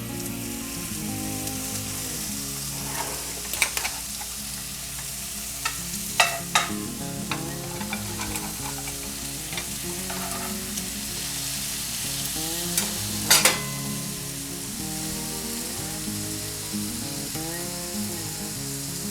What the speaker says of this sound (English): add them in there and get these babies sizzling